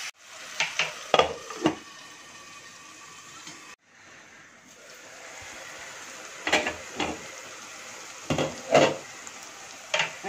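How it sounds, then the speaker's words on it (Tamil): Onions and tomatoes sautéing in a pan for a Tamil dry fish curry, a steady low sizzle with clustered scraping and clanking stir strokes near the start and again toward the end, no talk. "இப்ப தக்காளி போட்டுக்கோங்க நல்லா வதங்கட்டும் தக்காளியும்"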